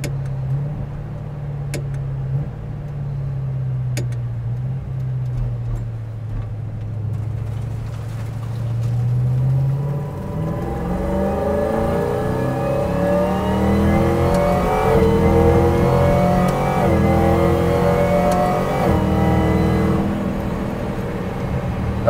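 A 1971 Chevelle with an LT4 engine and 10-speed automatic rumbles at low revs, then climbs into a long rising rev with paddle-shifted rev-match downshifts, loud and close with steady road noise underneath.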